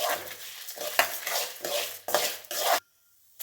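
Dry-roasting red chillies and urad dal in a pan for idli podi gives several bursts of scraping and stirring with light sizzle, close by with no voices, then it stops abruptly near the end.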